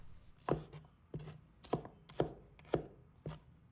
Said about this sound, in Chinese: 准备一把红葱头，也切成小块